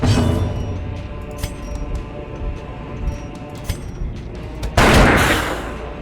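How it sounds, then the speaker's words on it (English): A pistol shot goes off in Darkest Dungeon's turn-based combat, a single loud burst with a bright crack near the end, set among quieter clinks and soft thumps of battle. "Pistol shot on the more guarded one."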